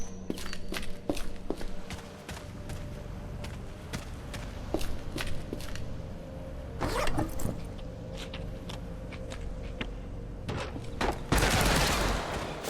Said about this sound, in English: What the hell are they shooting?